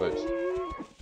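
Ava Ceratops dinosaur call from the video game The Isle: a single low, drawn-out mooing bellow lasting about a second, close and moderately loud, with a brief spoken word at the start.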